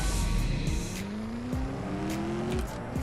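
Engines rev and shift through gears in a CSR2 mobile drag race, rising whines stepping up repeatedly with tire noise, steady and loud throughout with no talking.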